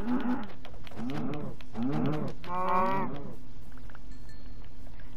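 A cow in a block-building survival video game moos three or four times in drawn-out, rising calls over a steady low background tone, with no one talking.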